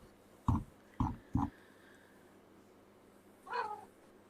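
A pet cat meows three short times in quick succession, fairly close, then lets out one longer, drawn-out meow after a pause, with no talk over it.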